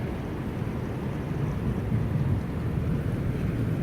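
Steady rain with a low thunder rumble in West Texas: a dense, continuous wash of rainfall at an even level throughout, with no speech.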